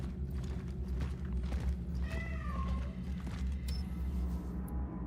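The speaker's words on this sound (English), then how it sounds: "And I hear a cat inside." In the video game Cronos: The New Dawn, a cat meows behind a closed door, a few faint, muffled rising-and-falling cries over a constant low ambient drone.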